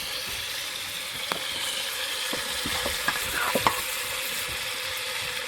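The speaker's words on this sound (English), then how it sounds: "So I'm going to add in the shrimp to the butter." Shrimp sauté in melted butter with a steady, moderate sizzle, near and even, dotted by sharp clicks and light utensil taps against the pan, with no talking.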